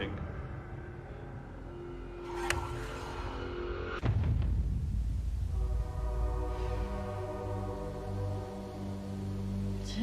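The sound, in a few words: train passing with horn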